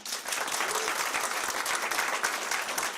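A live comedy podcast audience at a Doug Loves Movies taping in Brea claps, a dense, even burst of applause from first-time attendees with no talking.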